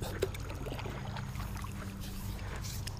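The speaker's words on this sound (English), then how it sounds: "I've just been paddling away" A paddleboard is paddled across calm water on a bass fishing outing, with soft splashes and trickling water under low wind noise, quiet and close.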